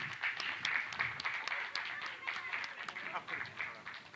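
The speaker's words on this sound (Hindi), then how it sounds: "एक बार जोरदार तालियां हो जाएं।" Audience applause after a Buddha-themed play at a foundation day event, moderately loud clapping with a few distinct claps standing out and a voice murmuring underneath.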